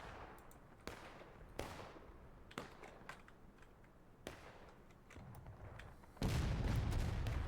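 Union cannon fire in a Civil War battle video game: sharp, scattered artillery booms, some near and some distant, at irregular intervals, ending in a sudden loud, sustained burst of explosive roar.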